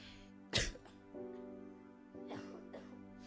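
A single sharp cough rings out in a quiet room during a Sunday church service, followed by faint shuffling and low background noise.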